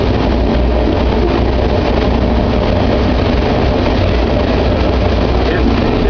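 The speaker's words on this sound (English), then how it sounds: "The stack train." A Montana Rail Link stack train rolls past near Missoula, a loud, continuous low rumble of engine and rail cars that holds steady throughout without any break.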